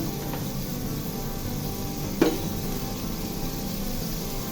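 Garlic paste frying in soybean oil makes a continuous close sizzle, broken once by a sharp utensil tap.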